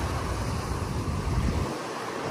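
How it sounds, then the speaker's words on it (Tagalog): Strong wind and crashing waves at Manila Bay roar in a loud, continuous wash with gusty rumble, easing slightly near the end. "malakas ang alon, malakas ang hangin"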